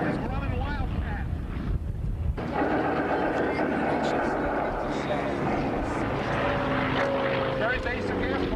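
A Grumman Wildcat propeller fighter passes overhead at an air show, a loud, steady engine drone with wind buffeting the microphone throughout.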